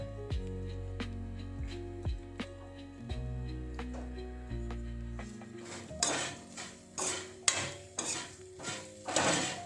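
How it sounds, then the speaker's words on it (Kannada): Dry fruits frying in a pan for laddoo, a string of metallic ringing clinks and scrapes from a spoon against the pan, then a livelier crackle and stirring toward the end, no speech. "ಹೀಗೆ ಫ್ರೈ ಆಗ್ತಾ ಇದ್ದಾವೆ"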